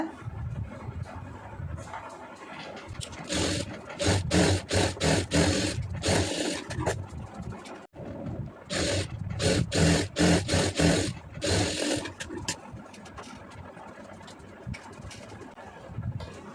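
A domestic sewing machine stitches a crosscut blouse lining in loud, steady bursts of rapid needle clatter, pausing briefly near the middle before running again.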